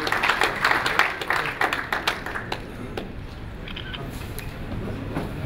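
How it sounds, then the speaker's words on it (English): Audience applause at an award ceremony for a magazine anniversary, a burst of distinct, fairly close hand claps that is loudest at first, then thins into scattered claps over a low room hum. "Clapping, please."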